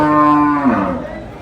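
One loud, close, drawn-out moo from a cow at a cattle market in Dhule, falling in pitch and fading after about a second.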